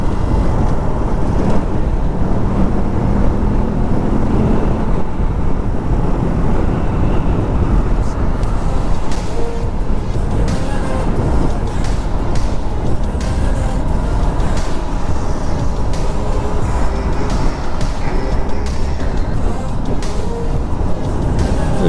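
Suzuki Gixxer SF 250 motorcycle engine while riding, a loud continuous drone mixed with wind rush and road noise, steady throughout with a voice speaking at times.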